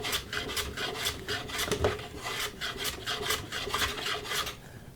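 Hand plane shaving very thin passes off a wooden miter spline joint, a rapid series of dry rasping strokes repeating in a quick rhythm, close and fairly loud, tapering off at the end.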